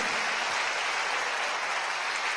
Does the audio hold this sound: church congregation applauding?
yes